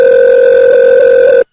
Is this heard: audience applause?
no